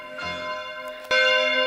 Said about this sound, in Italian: È da circa 20 minuti che questa campana suona